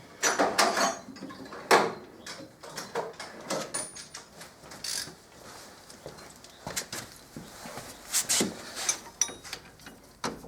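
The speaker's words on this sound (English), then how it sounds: "Shall fire them in with the hand ratchet." Hand ratchet tightening front brake caliper bolts on a Fiat Fiorino van, bursts of close clicking and metallic knocks separated by quiet pauses, with occasional clunks of tools being handled.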